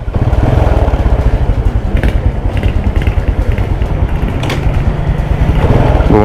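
A 21-year-old Honda Wave 125s motorcycle in original factory condition runs loud and close, its small engine putting out a rapid, steady putter that rises slightly at the end.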